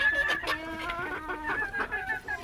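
Chickens on a homestead cluck close by in quick, uneven bursts, with a few overlapping calls from the flock and no talking.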